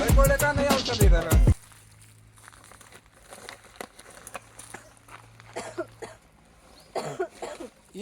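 Harsh, loud coughing in a quick cluster of bursts opens the recording, then gives way to quiet crinkling and faint distant voices, heard where cough medicine is being offered during Holi.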